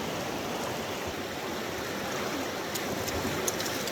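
River water flows steadily in a continuous broadband rush with no voices, a dense close wash of moving water along an Idaho riverbank.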